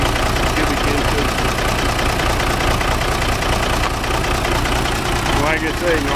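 A 1983 single-axle International truck with a 240 Cummins 855-cubic-inch diesel idles loudly nearby, a dense rumbling clatter running unbroken throughout, with a voice faintly audible beneath it.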